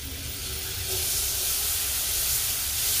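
Butter melting in a frying pan on the stove gives off a steady, hissing sizzle that swells after the first second and holds close and fairly loud throughout, with no talking.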